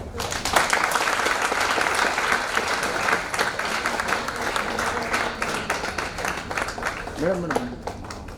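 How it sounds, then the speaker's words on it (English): Audience applause welcoming guests onto stage at an inspirational speech event, steady dense clapping across the whole stretch with voices talking over it and a brief vocal sound near the end. "Yes, you can clap for it."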